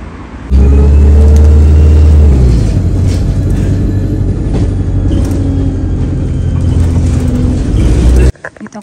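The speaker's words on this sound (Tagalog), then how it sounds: "Punta na dito yung bus mga kachika." A bus pulls up close with a loud, steady diesel engine rumble and some tonal whine from about half a second on, then cuts off sharply near the end; traffic noise runs beneath it.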